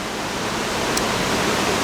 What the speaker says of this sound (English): I would like to see if I could get down lower, somewhere into the stream, but it is flowing rather quickly